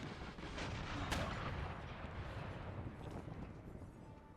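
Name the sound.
cannon fire in the video game Empire Total War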